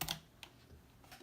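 Computer keyboard typing, a few separate key clicks spaced across a short quiet stretch, close and soft, with no voices.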